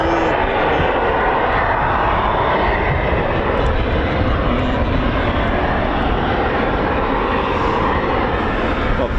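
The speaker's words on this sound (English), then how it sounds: "Typhoons on startup." Eurofighter Typhoon FGR4 jets starting up at RAF Coningsby, a steady loud roar of jet engines spooling that fills the whole stretch without let-up, close by and constant.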